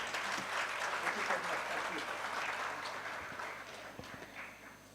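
A large audience at a university management-school orientation program applauds in a steady, dense wash of clapping that fades slightly toward the end, with no voices on top.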